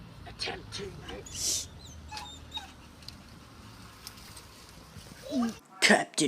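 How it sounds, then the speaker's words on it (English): A lonely puppy by a road gives several faint whimpers and yips in short bursts, with a louder cry near the end over quiet background rumble. "Look at that lonely puppy."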